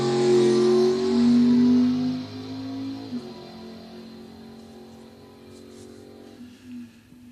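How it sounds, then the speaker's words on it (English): A naturally aspirated 1973 Chevy Corvette drag car running on E85 roars loudly at first, then its engine note fades into a lower, distant rumble that lingers to the end. "Jeff Thomas, Mount Calvary, Wisconsin, in the 73 Chevy Corvette. Naturally aspirated"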